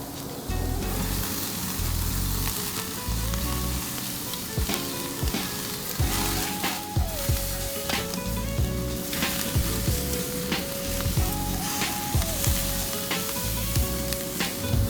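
Carne asada sizzles loudly on a grill in a steady, close, crackling hiss with occasional pops and scraping stirs, no talking.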